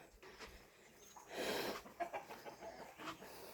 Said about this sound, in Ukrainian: Курка вон ходить.